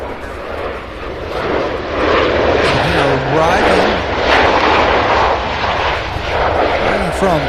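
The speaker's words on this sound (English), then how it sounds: "Southwest Flight 1337. A 5-year-old Boeing 737-800. That one's rather loud as well." Southwest Boeing 737-800, five years old, arriving at CVG airport in Cincinnati: a loud, close, sustained jet engine roar with a shifting whine that fills the whole moment.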